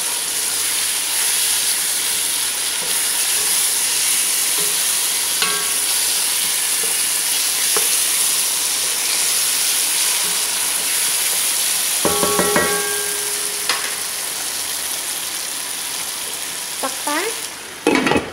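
Chicken biryani ingredients with coriander stirred in a frying pan: a steady loud sizzle and hiss throughout, with occasional scraping and clinks of the utensil against the pan.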